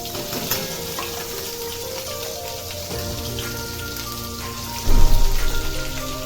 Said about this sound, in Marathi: हे वाटण मस्त असं तेलामध्ये परतून घ्यायचे